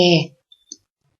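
After a brief voice, a computer mouse gives two quick, faint clicks close together while someone works in mapping software.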